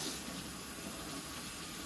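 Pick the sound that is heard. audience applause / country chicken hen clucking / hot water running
hot water running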